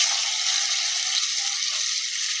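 Tomatoes tossed into fried garlic for methi bhaji sizzle loudly and steadily in hot oil, a dense continuous hiss close up with no talk.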